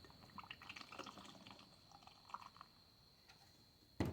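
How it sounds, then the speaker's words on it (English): Faint Montana street ink trickles and splashes softly as it is poured into a container, ending with a brief clunk. "We're gonna pour some of the regular ink in here."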